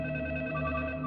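A telephone rings steadily and close by in a Hindi-dubbed film scene, its electronic tone sustained without pause and no voices over it.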